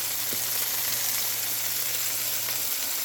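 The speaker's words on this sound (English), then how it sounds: "everything is sauteing in this garlic oil that I absolutely love" Chicken thighs and onions sauté in garlic oil, seasoned with onion and herb dash and Tony's spice for chicken soup, giving a steady close sizzle with a low hum running underneath.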